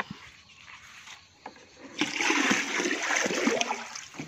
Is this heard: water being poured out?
yes